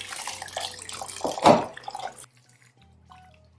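Fabric lifted out of a tub of warm Rit dye water, with water splashing and dripping back for about two seconds, a louder surge midway, then near silence with a few faint drips.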